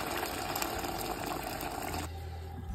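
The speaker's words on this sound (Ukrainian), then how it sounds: "тепер заливаємо це гарячою водою" Hot water poured into a soup pot of fried ingredients, a steady gushing, splashing rush that cuts off abruptly after about two seconds, leaving a low hum.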